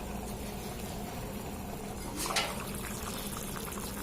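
Water boils in a covered pot for Bai Veetu Kalyana mutton biryani, giving a steady, quiet bubbling hiss close by with a brief splash or stir partway through.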